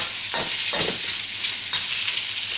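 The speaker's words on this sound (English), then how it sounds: "Keep moving them around. You don't want to get them stuck to the wok or pan or whatever you're going to use to cook it in." Garlic shrimp being stir-fried in a wok, a constant crackling sizzle with three or four brief louder bursts as the pieces are tossed and moved around, close up with no talking.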